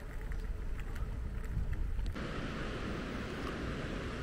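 Steady rushing surf of higher ocean waves on a beach at Maspalomas, Gran Canaria, with wind noise buffeting the microphone, a constant broadband wash with no talking.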